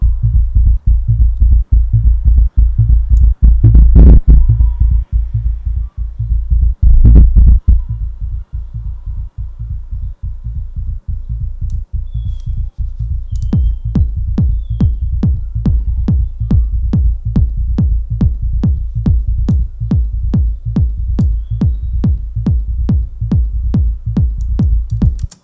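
Distorted synthesizer bass from a PolyMAX synth drives a techno loop: loud, steady pulsing low thumps with an even repeating rhythm, a brighter ticking percussive layer joining partway through, no voices.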